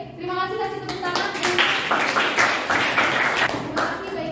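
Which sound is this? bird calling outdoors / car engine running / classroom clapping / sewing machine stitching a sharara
classroom clapping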